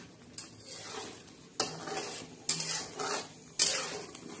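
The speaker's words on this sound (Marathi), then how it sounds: "अजून मसाला छान असा परतून घ्यायचा" Spiced masala being stirred and sautéed in a pan for a fish curry, with four distinct scraping strokes of a spoon over a soft, steady sizzle.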